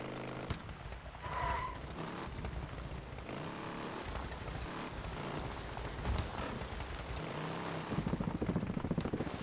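Steady hiss of rain in the video game Days Gone, with patter and a dense broadband wash, continuing throughout alongside low rumbling engine-like noise.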